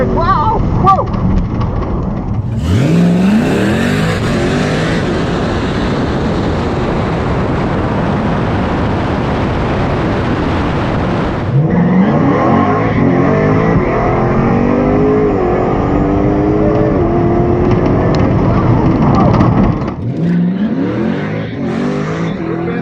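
Tesla Model S Plaid launching hard down a quarter-mile drag strip with its tires spinning, a loud sustained electric whine and roar that surges in two long bursts, with a person exclaiming over it.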